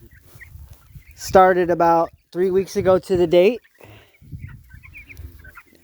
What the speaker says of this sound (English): these are our 50 meat birds, same breed that we